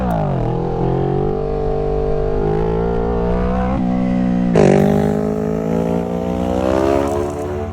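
Kawasaki Ninja 650 motorcycle engine held at high revs during a wheelie, a loud continuous droning whine that dips briefly and surges again, close up with wind noise and no talking.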